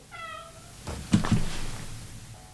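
A cat meows in a stairwell, giving a couple of short, close meows in quick succession against a quiet indoor background.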